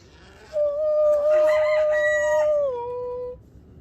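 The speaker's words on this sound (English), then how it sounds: "See, even the chicken's excited." A chicken lets out one loud, close crow lasting a few seconds, with a clucky edge, heard alone during the unboxing of a Holystone HS720E drone.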